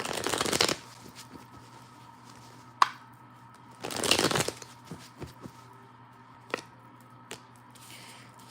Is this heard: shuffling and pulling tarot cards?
yes